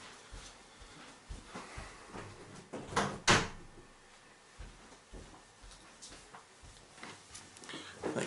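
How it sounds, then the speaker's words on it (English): An indoor door is pushed shut with one sharp, loud bang near the middle. Softer knocks and rustles from handling come before and after it. "I'm going to close this door real quick."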